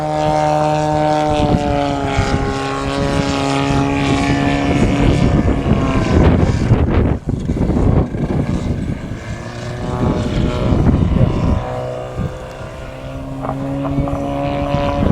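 A model aircraft's small propeller engine drones loudly and steadily with a buzzing whine, pitch shifting up and down as it passes, briefly dipping before resuming its steady roar.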